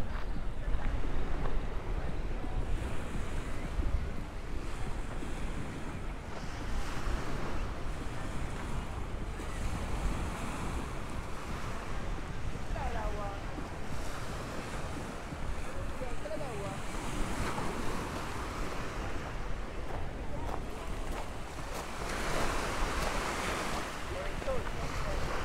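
Surf washing against the rocky beach at Fort Zachary Taylor in Key West, a steady broad wash of waves mixed with gusty wind noise on the microphone, continuous throughout with no talking.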